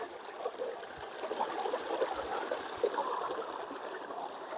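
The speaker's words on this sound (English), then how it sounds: "The sluice is running really well today" Water trickles and gurgles steadily down a gold sluice set in a stream, a continuous close babbling flow with small splashes, no voices.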